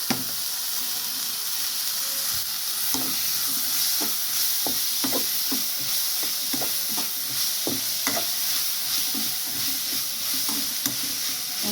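Onion, tomato and green chilli frying in a pan for a fish curry, a constant close sizzle with a steady run of spatula scrapes and stirs throughout.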